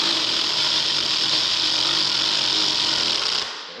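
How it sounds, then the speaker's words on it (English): A power tool driving screws into plastic whirs steadily at high speed for a few seconds, then winds down and stops. "Especially using power tools."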